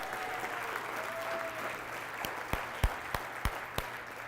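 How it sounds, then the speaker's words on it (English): Applause from a keynote audience for a volunteer, a steady wash of clapping with a few sharper, closer claps standing out toward the end; a faint tone briefly rises over it early on. "Give him a huge round of applause."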